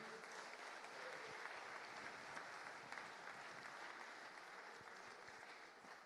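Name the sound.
applause for a footballer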